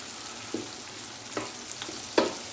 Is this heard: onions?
yes